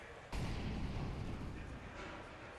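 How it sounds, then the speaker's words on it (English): A sudden booming blast from a Molotov or grenade in Counter-Strike: Global Offensive on the Mirage map during a showmatch rolls into a rumbling fiery roar that fades slightly over about two seconds. "Just some preemptive Molotovs coming through."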